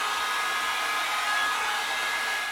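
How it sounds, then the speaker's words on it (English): A hot brush blow-drying short, fine hair, giving a steady, loud, even rush of blown air that holds without a break and with no one talking. "you'll just take a hot brush, any hot brush, and you're going to dry this going backwards"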